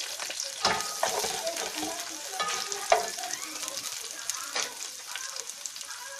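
Onions sizzling in melted butter in a pan, steady frying crackle with scraping stir strokes and occasional clinks of the spoon, fairly close.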